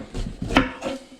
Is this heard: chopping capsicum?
yes